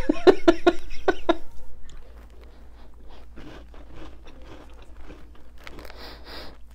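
Crunchy Turkish crackers shaped like small fidget spinners being bitten and chewed up close, a quick run of sharp crunches at the start followed by softer, scattered chewing and crackling.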